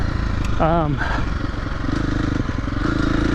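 A loaded motorcycle engine drones continuously in the foreground with steady rumble, while a person talks over it.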